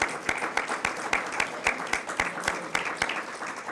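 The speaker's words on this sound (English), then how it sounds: "I think that deserves a round of applause." Audience at a museum's centennial celebration giving a round of applause, with many hands clapping and a few sharp, distinct claps standing out across the short stretch.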